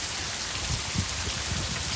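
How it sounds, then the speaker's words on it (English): Heavy rain pours down in Oklahoma in a dense, steady hiss, with patters of drops striking nearby surfaces. "That's some crazy rain now."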